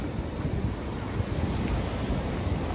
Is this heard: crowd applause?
no